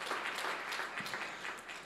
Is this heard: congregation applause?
yes